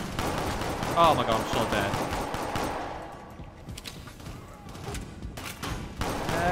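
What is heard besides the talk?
pistol gunfire in the video game Shadowrun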